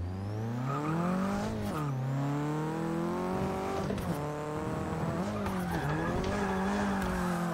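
Stock Nissan 240SX drifting through Rio in the Forza 6 video game, engine revving with pitch rising and falling while tires squeal and skid continuously, close and loud, no talk.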